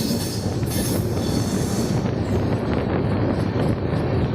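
Loud, close rumbling roar of a moving diesel train, heard from on board the Goa Express from Pune to Goa as it gathers speed, with steady wheel noise and wind buffeting.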